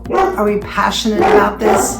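Family dogs barking excitedly in a quick series of yaps, close and fairly loud, mixed with someone speaking over them.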